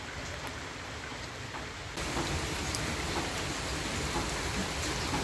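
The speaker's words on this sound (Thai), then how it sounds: "ท่ามกลางสายฝนเลยครับ" Steady rain falls outdoors at Dong Tan beach in Pattaya, a dense, even hiss of drops on surfaces that swells louder partway through and continues without talk.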